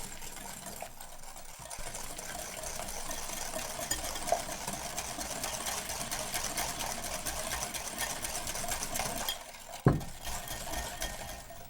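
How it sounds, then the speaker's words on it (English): Eggs and sugar being whisked together in a bowl set on a wet towel make a quiet, continuous rhythmic scraping and tapping, with a sharper knock near the end. "Now whisk the eggs and sugar together."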